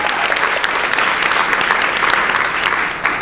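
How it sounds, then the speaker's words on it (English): Sustained applause from an audience at an awards ceremony, dense and steady clapping at close range that continues for about three seconds. "Yeah, we can clap for that."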